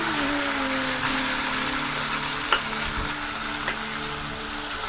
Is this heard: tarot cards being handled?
no